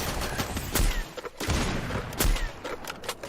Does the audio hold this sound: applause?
no